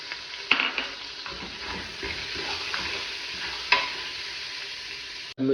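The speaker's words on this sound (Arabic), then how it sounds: "نجو نضيفو المكون الثاني اللي هو البصل والثوم، يعني نكمل نحركهم حتى يذوبوا" Onion and garlic frying with chicken in a pot, a steady close sizzle broken by a few sharp scrapes and clinks of a spoon stirring, with no talking.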